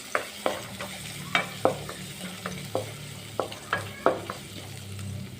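Garlic and ginger sizzle and fry in hot oil, with repeated sharp clicks and scrapes of a utensil stirring the pan, close and steady.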